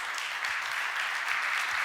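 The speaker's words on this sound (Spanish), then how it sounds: "Le haces aplauso" A church congregation claps together during a Sunday worship service, steady continuous applause heard somewhat distant and soft, with no voices standing out.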